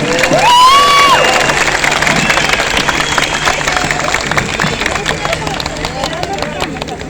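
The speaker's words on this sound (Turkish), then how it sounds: "arkadaşlarım için büyük bir alkış rica ediyorum" At a Victory Day celebration concert, a loud crowd applauds and cheers for the musicians, with shouts and whistles over dense clapping that stays strong throughout.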